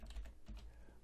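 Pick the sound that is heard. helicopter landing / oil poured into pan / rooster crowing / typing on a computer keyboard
typing on a computer keyboard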